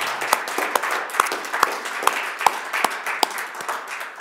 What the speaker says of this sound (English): we all need to give a round of applause to Professor Massimo Latorre